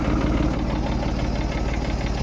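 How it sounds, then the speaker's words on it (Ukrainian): A Dongfeng 244 tractor engine runs while ploughing with a large homemade plough, giving a close, steady low rumble with a fast, even chugging pulse throughout and no talk. "Тракторець справляється. Робить як мерседес, рох-рох-рох-рох-рох"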